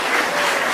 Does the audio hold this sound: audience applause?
yes